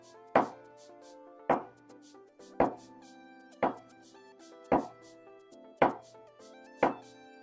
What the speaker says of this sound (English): Okay, you cut your garlic up.